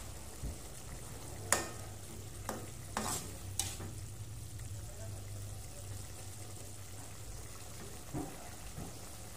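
Beef sambal goreng with curry spices sizzles softly in a pan as it is stirred, with a few sharp scrapes and clinks over a low steady frying hiss and hum.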